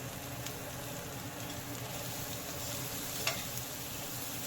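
Spices and a spoonful of asafoetida sizzle in hot oil with a steady, even hiss, close by, plus one brief clink partway through.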